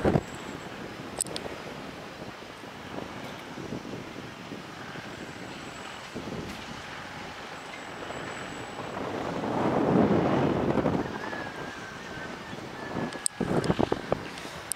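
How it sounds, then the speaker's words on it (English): Strong wind roars and rumbles against the microphone in Meghalaya, India, swelling in a loud gust midway, with occasional sharp knocks and crackles; no voices. "Okay, so quite windy here."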